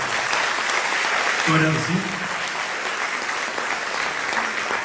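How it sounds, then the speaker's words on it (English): Audience at a senior awards ceremony applauding graduating seniors with steady, full clapping throughout, while a speaker's voice briefly comes through over it. "Please give them a round of applause."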